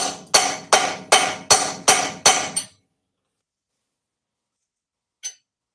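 A hammer strikes a homemade stainless steel chisel seven times in a quick, even rhythm, each blow a sharp, loud metallic crack that rings briefly. Silence follows, then one last faint tap.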